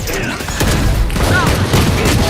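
Rapid bursts of gunfire from a tactical shooter video game in the Valorant style, dense and loud with booms and thuds, while a voice shouts over the shooting.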